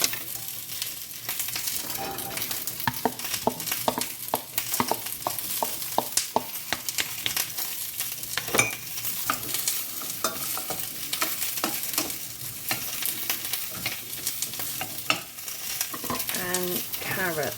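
Onions sizzle in a teaspoon of vegetable oil in a pan for a sausage and bean casserole, a steady close crackle with repeated stirring scrapes and no talking.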